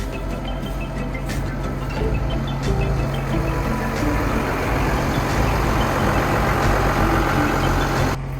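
A Mobility by Dalton 800 row crop high-clearance machine on tall tires, used for spreading urea between corn rows, gives a steady, loud engine drone and rumble close by, with no talking.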